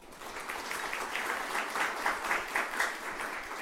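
Audience applause at a Columbus Metropolitan Club forum on Ohio charter schools, a steady crowd of clapping that swells slightly midway, moderately distant and without voices over it.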